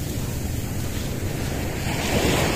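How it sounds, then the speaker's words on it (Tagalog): Strong ocean waves break and surge onto a beach in Ilocos Norte, a steady, loud wash of surf with wind buffeting the microphone, swelling louder near the end. "Lakas ng alon."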